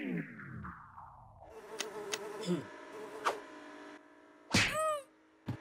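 Flies buzz loudly and close, with wavering whines that rise and fall in pitch, separated by sharp clicks and short bursts, as if insects dart near the listener.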